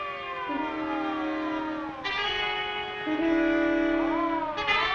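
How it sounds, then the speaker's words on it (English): Wailing siren, likely from an ambulance or police car, rising and falling in long sustained tones with overlapping swoops, steady and fairly clear, with no speech. "It's a siren. Probably an ambulance or a police car."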